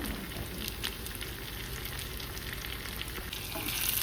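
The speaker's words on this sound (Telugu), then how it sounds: "మిర్చి వేస్తున్నానండి, బెంగళూరు మిర్చి." Capsicum, or Bangalore chilli, fries in a pan with a continuous soft sizzle and crackle, fairly quiet and steady, with small pops and stirring scrapes throughout.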